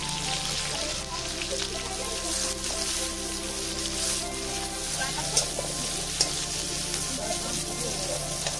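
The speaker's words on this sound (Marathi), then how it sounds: "तेल चांगले गरम झाले, आता कांदा फ्राय करून घेऊ" Onion frying in well-heated oil for chicken biryani gives a continuous loud sizzle and crackle, with a low steady hum under it and a couple of sharp spatula clicks near the end.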